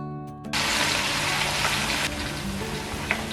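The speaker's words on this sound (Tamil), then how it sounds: "ஸோ இப்போ இதை வந்து நாங்கள் பொரிச்சு எடுப்போம்." Sprats sizzle in a frying pan over medium heat, a dense, steady crackle that starts abruptly and continues close and moderately loud with a few small pops.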